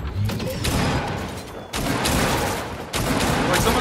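Heavy gunfire in Fortnite during a live event, with dense, continuous bursts of shots that rise sharply at two points, loud and close, under a faint hint of voices.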